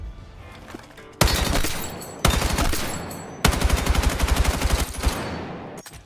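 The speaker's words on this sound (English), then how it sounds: "Assault rifle." Assault rifle gunfire in Counter-Strike: loud, close bursts of rapid automatic fire, three separate volleys of repeated cracks with brief gaps, the last burst longest, fading into a short tail.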